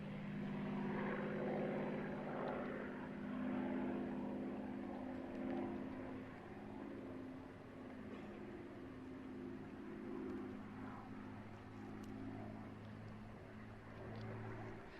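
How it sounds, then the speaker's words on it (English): A Spitfire-type piston aircraft with its propeller engine droning overhead, a steady low drone with slowly shifting pitch held throughout, moderately distant and not loud, with no talk. "I think it's a Spitfire."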